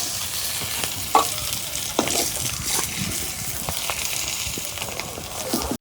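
Chicken eggs sizzle steadily in hot oil in a pan, with intermittent scraping clicks as they are stirred and turned. The frying stays close and even throughout.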